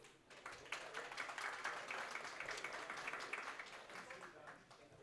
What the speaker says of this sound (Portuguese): Para os aplausos de vocês.